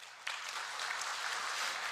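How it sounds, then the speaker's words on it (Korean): A church congregation applauds a newcomer during a Sunday service, with steady, full clapping from many hands that swells in and continues throughout. "여러분 환영의 박수 부탁드리겠습니다"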